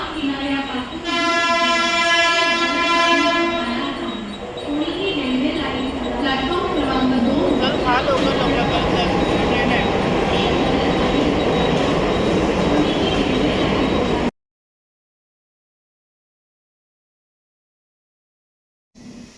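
A suburban train bound for Badlapur, Maharashtra, rumbles steadily close by, with a long horn-like tone early on, people talking over the noise; it ends abruptly in silence.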